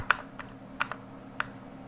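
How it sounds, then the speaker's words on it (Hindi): Numbers typed on a computer keyboard during Excel invoice work, a few light, sparse key clicks over a quiet room hum, close and soft. "तो चलिए फ़िलहाल हम कुछ भी इस तरीके नंबर टाइप कर दे रहे हैं।"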